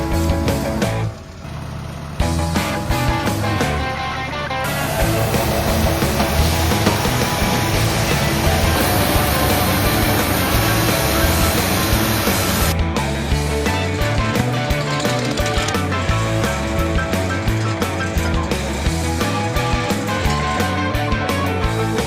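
A sawmill cutting wood runs loud and continuous, with a steady mechanical drone and grinding, and a brief drop in level near the start.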